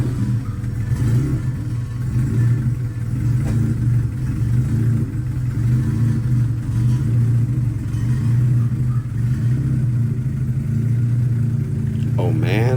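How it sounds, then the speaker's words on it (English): Honda Civic EF engine cold starting and idling, a steady low rumble held close throughout with slight revving near the end, under intermittent talk. "Now let's go to the cold start of the EF."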